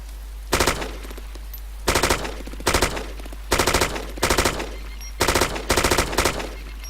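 Automatic gunfire in the video game DayZ comes in about eight short, loud bursts of rapid shots separated by brief pauses, sharp and close over a low steady hum.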